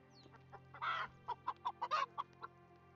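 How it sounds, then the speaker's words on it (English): Chickens cluck in a video game, a quick run of short, clipped calls that are faint and close together. "Where's the chickens at?"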